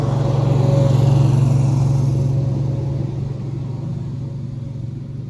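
A small machine's motor runs steadily with a loud, even hum and rumble that softens slightly toward the end, continuous and close, with no voices.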